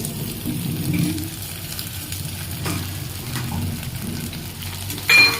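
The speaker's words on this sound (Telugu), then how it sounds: "వీటిని కూడా ఈ ఆనియన్స్తో పాటు మంచిగా దూరగా వేయించుకోండి కొంచెం కలర్ రావాలి" Cut potatoes fry with onions and green chilies in a pan, giving a steady low sizzle, occasional stirring scrapes, and a brief louder clatter near the end.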